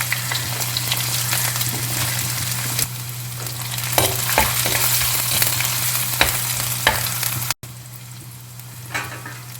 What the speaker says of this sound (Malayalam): ഉള്ളിയും പച്ചമുളകൊക്കെ എണ്ണയിൽ നന്നായിട്ട് വഴന്ന് വരണം